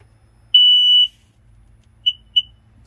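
A Sea-Doo watercraft sounds a steady electronic tone for half a second, then after a pause two short, sharp beeps in quick succession. Close and clear, nothing else around.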